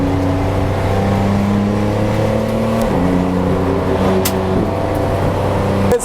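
A budget £1000 track car accelerates hard on a race circuit, its loud engine climbing through the revs, dropping at a gearshift and climbing again, heard close from inside the car with wind and road roar.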